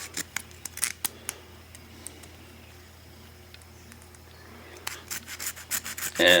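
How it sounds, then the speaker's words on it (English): Close, scattered snips and scraping rubs as a plastic bushing is cut in half during a Ford F150 teardown, faint in the middle and growing louder with sharper clicks toward the end. "So I found this plastic bushing. I think it's going to fit over the bigger line. I'm going to go ahead and cut it in half."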